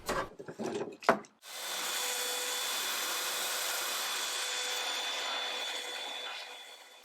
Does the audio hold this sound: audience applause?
no